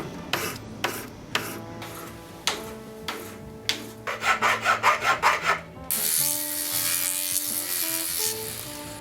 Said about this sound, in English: Barely take that little bit of extra solder off of there.